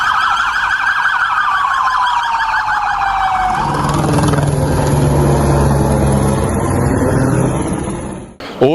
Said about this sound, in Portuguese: acordaram com o barulho das sirenes e da aeronave Carcará da Polícia Civil